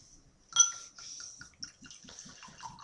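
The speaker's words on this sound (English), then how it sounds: "Pouring slightly thin, a little bit of reddish brown there. Almost the sound of it, you're pouring like a liquor." Fuller's Imperial Russian Stout pours into a glass, a quick glugging rhythm of repeated soft pulses close by, with a faint clink of glass at the start and no talk.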